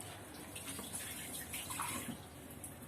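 Water runs steadily from a tap or jug into a cooking pot while cabbage rolls are being prepared, a continuous close splashing wash with no talk.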